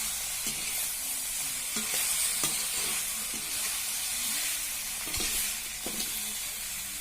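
Pork fries in a pan with a loud, continuous sizzle. A utensil stirs it with scattered scrapes and clinks, close up, and no one speaks.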